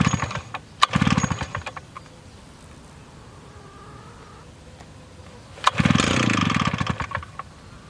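A Yuzhoukee 80cc two-stroke backpack blower engine fires up in two loud bursts of buzzing revving with a quiet low idle between them, heard close up.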